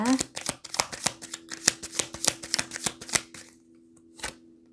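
Tarot cards are shuffled in a rapid run of crisp, close riffling snaps that stop abruptly, followed by a single card being drawn, with a faint steady hum underneath.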